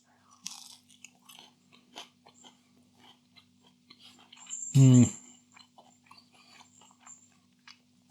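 Someone chewing a mouthful of Chicago Town cheesy dough balls, soft moist bites with one louder crunchy burst midway, close and fairly quiet against low background hum.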